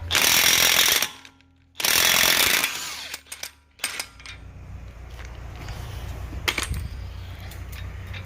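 Impact wrench or air tool rattling loose the front axle nut on a Subaru WRX, two long loud hammering bursts with a pause between, then short taps and steady shop noise.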